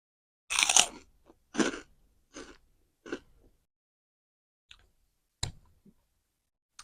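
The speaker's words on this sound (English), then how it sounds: "Now we're gonna test out the crunch factor." Crunchy Trader Joe's cacio e pepe corn puffs chewed close to the mic, a few loud crisp bites and crunches in bursts with short pauses, then quieter scattered chews, with no talking.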